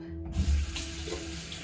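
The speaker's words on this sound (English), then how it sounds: "Please let me wash my hands" Tap water runs briefly over hands at a sink, a short close splashing gush with a steady hum beneath, no talking.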